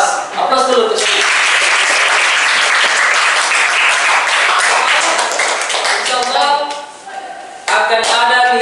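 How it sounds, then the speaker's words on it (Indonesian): A classroom of students applauding together, sustained loud clapping for several seconds that briefly dips and then resumes, with a teacher's voice speaking before and after. "Aplaus dulu untuk semua."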